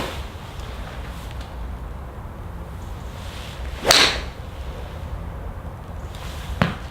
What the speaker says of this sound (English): So I'm going to hit some golf balls